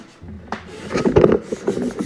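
Rough, uneven rasping of sandpaper scrubbing against wood, close by, in short irregular strokes.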